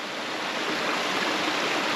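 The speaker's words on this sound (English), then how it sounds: "you can just kind of like listen to the water" Flowing water rushes near the north wall of Kotor, Montenegro, a steady, close hiss of a stream with no breaks and no voices.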